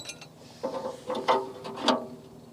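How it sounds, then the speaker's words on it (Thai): A steel locking pin is slid into a hole in steel column formwork, giving a few quiet metallic clicks and scrapes spaced about half a second apart. "ใส่สลักเข้าไปนะฮะ"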